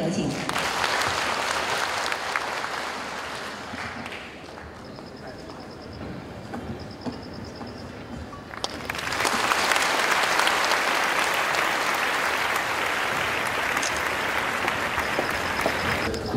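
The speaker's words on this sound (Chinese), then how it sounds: "掌声有请" A conference audience applauds to welcome a speaker at a green climate organization event: dense clapping that dips, then swells louder and stays steady to the end.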